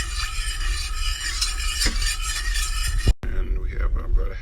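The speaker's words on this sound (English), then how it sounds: "So we're going to stir that in." A spoon stirs molasses into a chicken wing sauce in a bowl or pan with a continuous soft scraping and swishing, briefly interrupted, while a person talks over it.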